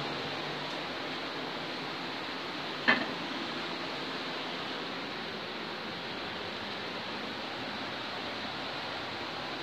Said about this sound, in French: si vous entendez l'eau, c'est normal, c'est parce qu'on est juste à côté d'une cascade